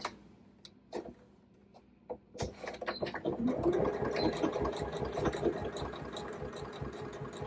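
A sewing machine stitches a zipper pocket closed on a bandana hobo bag. A few soft clicks and taps come first, then the motor starts a steady, close, rapid chatter of stitching.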